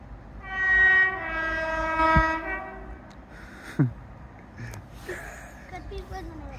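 A train horn sounds loudly nearby, then a freight train rumbles and clatters past Cramlington railway station while people talk.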